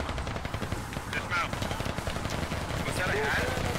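In a Squad match, Russian forces return fire near an MTLB armored vehicle: rapid automatic bursts and scattered shots overlap in a busy, ongoing firefight, with muffled voices mixed in.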